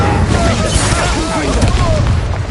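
In Hogwarts Legacy, a cast Incendio fire spell bursts out as a loud, close whoosh with crackling, thumping impacts through a chaotic combat moment. A voice speaks over it.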